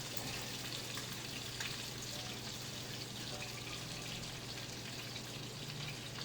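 Garlic and butter frying in a pan, a steady close sizzle with faint crackle and a low hum underneath, with no talk over it.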